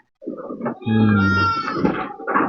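Goats bleating loudly and close while being fed cassava stems and onggok on a farm, a long drawn-out bleat followed by shorter calls, with other goat sounds around.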